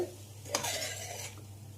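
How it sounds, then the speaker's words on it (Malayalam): A spoon stirs tuna fish pickle in a pan, making one brief metallic scrape and clink followed by a soft sliding stir, close and moderately quiet over a steady low hum. "ഇനി നമുക്കിതിലോട്ട് നമ്മുടെ മെയിൻ ഇൻഗ്രീഡിയൻറ്റ് നന്നായിട്ട് മിക്സ് ചെയ്യാം"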